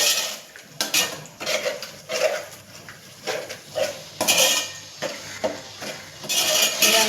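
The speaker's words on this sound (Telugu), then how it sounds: "ఇలా కప్పు పెరుగు వేసేసి ఇది కూడా బాగా మిక్స్ అయ్యేలాగా కలబెట్టేద్దాం." A spoon stirs yogurt into a biryani mixture in a pot, making repeated scraping clinks against the metal in an uneven rhythm, close and clear with no talking.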